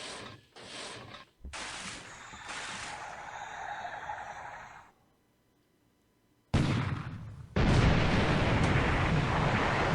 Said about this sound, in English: Another gunshot hit.